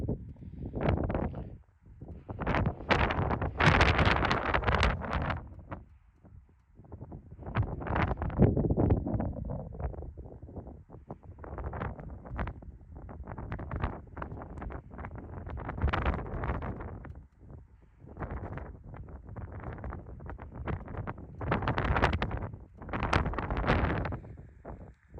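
Wind gusting hard across a microphone outdoors while scouting for moose, a loud continuous buffeting rumble that surges and fades throughout with no clear speech.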